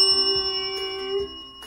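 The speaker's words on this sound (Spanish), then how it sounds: "decidió que sería buena idea volver a tocar el timbre de la señora Lengua" A bell rings with sustained, clear tones, a steady chime holding under light background noise for nearly two seconds, alone without talking.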